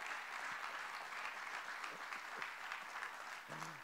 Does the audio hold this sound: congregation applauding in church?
yes